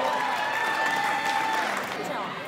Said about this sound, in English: they give them a big round of applause